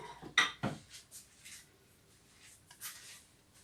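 A metal cooking pot lid clinks down onto a pot of spinach in a home kitchen, with a sharp knock and a few lighter rattles before it settles quietly.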